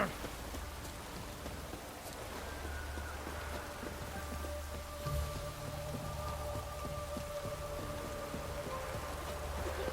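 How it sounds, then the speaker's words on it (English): Steady rain in the video game The Witcher 3 patters and hisses across the whole stretch, with a low rumble underneath and faint tonal hums drifting in the background. "No use doing any work in this rain."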